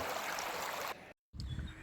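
Steady rushing water of the flooded Banas River in Amirgadh, Gujarat, after heavy rain, flows loudly for most of the clip, breaks off in brief silence, then returns with a deeper churning flow.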